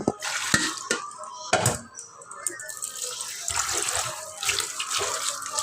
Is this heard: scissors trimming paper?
no